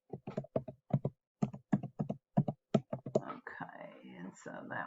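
Keys on a computer keyboard are struck in short bursts of crisp, close clicks with brief pauses, followed by softer rustling and handling noise.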